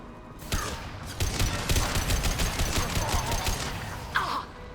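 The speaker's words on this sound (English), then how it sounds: "Firing a high impact shot." A high-impact shot is fired in the modded Mass Effect 2 Legendary Edition: a sharp crack starts a dense, roaring burst of combat noise that holds for several seconds, with a brief whoosh near the end.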